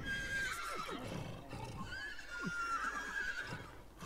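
A horse in a horse-breeding video game whinnies loudly and close, with shrill neighs rising and falling over a steady game backdrop and faint hoof clip-clop.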